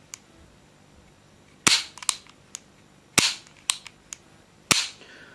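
Stainless 92 FS pistol dry-fired in double action, giving four sharp metallic snaps of the hammer falling at irregular intervals, close and loud, with small clicks between them and no talk.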